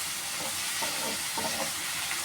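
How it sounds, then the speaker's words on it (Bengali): Onion, tomato and cashews fry in a pan with a steady, moderately loud sizzle, broken by a few soft stirring scrapes; no one speaks. "পেঁয়াজটা, টমেটোটা আর কাজু বাদামটা এইভাবে ভেজে নেব।"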